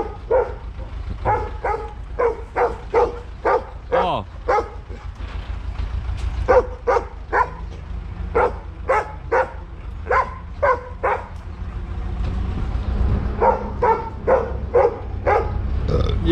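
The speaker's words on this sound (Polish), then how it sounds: "Jeżdżamy, Roki, nie szczekaj" A dog barks repeatedly in quick bursts near a farm barn while a header is pulled out, with tractor engine rumble underneath throughout.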